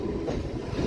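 A MEMU local train running toward Jangaon station, its dense, close rumble of wheels on rails steady and loud throughout a short stretch, with no voices.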